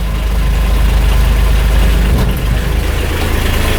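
A Kubota diesel utility vehicle engine idles steadily and loud at close range, a continuous low rumble throughout with a slight shift in tone partway through.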